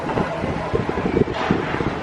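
Wind buffets a microphone aboard the SeaWorld San Diego sky ride, a steady rushing roar with small bumps and gusts throughout.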